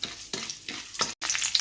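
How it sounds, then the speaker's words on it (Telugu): Tempering spices sizzling in hot oil in a kadai for a cabbage fry, a close, constant crackling hiss with three or four scraping stirs at a regular pace and one brief cut, no talk. "ఆయిల్ వేడెక్కిన తర్వాత పోపు దినుసులు వేసి తాలింపు పెట్టుకోవాలి"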